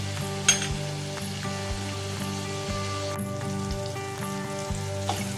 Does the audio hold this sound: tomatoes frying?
yes